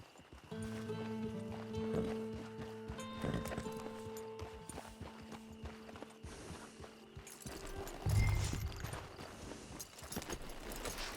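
A horse's hooves clip-clop in the Red Dead Online video game, a steady rhythmic clopping mixed with mechanical rattling and ambient game sound, with no talking.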